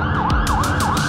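Wailing emergency siren from a fire truck or police car heard in a city street during a long mixed trail and city ride, rising and falling in steady repeated sweeps, loud and close over road and traffic noise.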